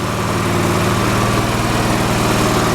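A Briggs and Stratton P.E. 75 engine runs steadily at 1800 RPM, a loud, close, even drone with a low rhythmic thrum and no pauses.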